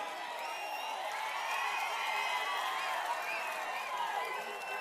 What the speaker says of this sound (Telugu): గట్టిగా చప్పట్లు కొట్టి మేమందరం ఓట్లేస్తామని